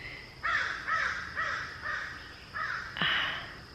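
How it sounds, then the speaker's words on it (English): Crows perched in garden trees caw loudly in a series of about six harsh, evenly spaced calls, close by and clear over a quiet outdoor background. "Man, those crows are so loud."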